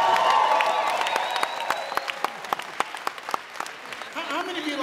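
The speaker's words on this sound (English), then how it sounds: "Give yourselves a round of applause." Motivational seminar audience at the Get Motivated event in Chicago bursts into applause, a dense steady clapping that gradually thins into scattered individual claps, with a voice briefly rising near the end.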